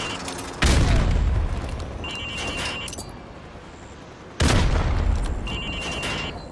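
Grenades thrown into windows in the Modern Warfare Remastered game training course explode as two loud, heavy booms about four seconds apart, each trailing into a long rumbling decay over game ambience and faint metallic clinks.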